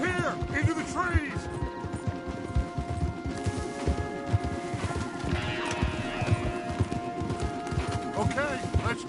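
Horse hooves gallop in the video game Red Dead Redemption 2 as riders push hard along a trail, a steady rapid clip-clop running throughout with a whinny, loud and close under game music and character voices.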